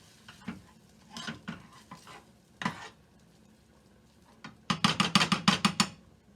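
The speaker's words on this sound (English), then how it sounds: "And again, we just keep stirring" A spoon stirs potato leek soup in a pot, giving scattered scraping scrapes and then a quick rhythmic run of clinking strokes, close and clear.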